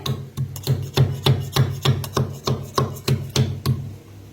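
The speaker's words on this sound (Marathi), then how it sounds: "खलबत्त्यात घालून कुटा असं छान होते त्या। कुटून घेते।" Cardamom pods pounded in a stone mortar and pestle during home cooking: about a dozen sharp, evenly spaced thuds in a steady rhythm, close and fairly loud, with no talking.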